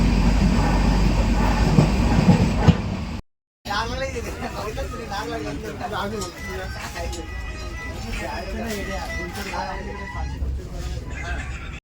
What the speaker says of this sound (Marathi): परफेक्ट दहा वाजता ट्रेन निघाली आमची